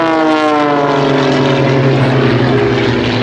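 Aerobatic display aircraft flying in formation pull up at the Duxford Air Festival, giving a loud, continuous propeller-engine drone with a falling Doppler pitch as they pass overhead, with no voices heard.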